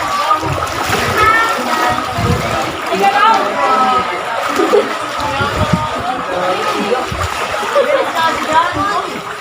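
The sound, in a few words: wading and splashing through muddy floodwater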